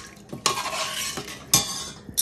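A spoon stirs a tempering for sambar in a metal pot, sharp clinks and scraping strokes over a soft sizzle of frying spices, close and loud.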